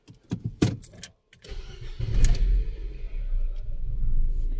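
A Renault Duster engine cranks and catches after a few short clicks and a brief pause, then settles into a steady, loud, close idle that continues to the end.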